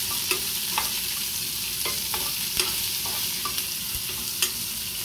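Tempering spices for a shrimp curry sizzle and crackle steadily in hot oil, with occasional light scraping and stirring taps against the pan.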